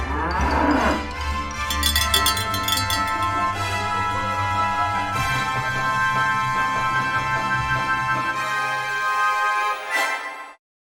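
Cattle lowing inside a cattle pen at a manure-fertiliser supplier in Balikpapan, with repeated loud moos from nearby animals filling the stretch over a steady farm background before stopping abruptly.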